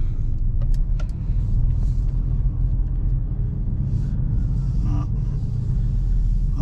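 A 2020 Mercedes A45S AMG driven gently in comfort mode, a steady low cabin rumble from the road and engine with a few faint clicks and ticks inside the car.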